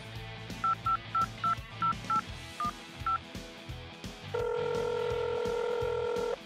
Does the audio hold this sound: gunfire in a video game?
no